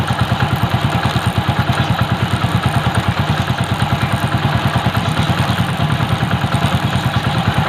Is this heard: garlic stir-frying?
no